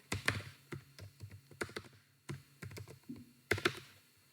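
Someone is typing code on a computer keyboard, with close, crisp clusters of key taps in irregular bursts separated by short pauses.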